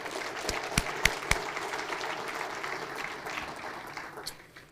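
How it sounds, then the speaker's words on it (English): Audience applause at a city's State of the City address, a moderate crowd clapping with a few sharp nearby claps early on, then fading gradually toward the end. "Let's give them a big round of applause, folks."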